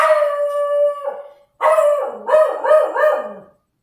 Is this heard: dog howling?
yes